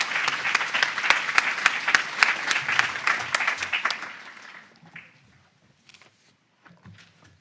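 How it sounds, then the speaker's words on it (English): Crowd applause at a psychiatry awards ceremony, dense clapping with a few sharp claps that fades out after about four seconds, leaving faint scattered sounds and murmurs. "Let's give them a final round of applause."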